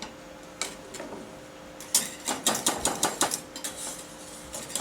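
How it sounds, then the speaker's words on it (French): Whisk clicking and scraping against a bowl while heating a lemon cream custard, a run of quick, fairly close metallic taps, loosest at first and then forming a steady, rhythmic beat. "nous allons maintenant fouetter."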